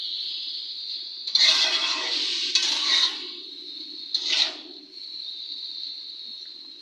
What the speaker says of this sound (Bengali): টমেটো কুচিগুলো দিয়ে নেড়ে চেড়ে নেব